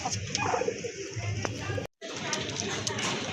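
A pair of Rajgolla pigeons coo softly and repeatedly in a quiet setting, with a brief dropout partway through.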